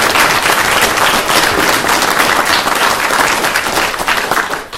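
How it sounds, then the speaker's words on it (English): Audience at a news conference on Indigenous Peoples Day in Wisconsin breaks into loud, steady applause, a thick crowd of clapping hands that holds strong and then starts to fade at the very end. "Let's give him a round of applause"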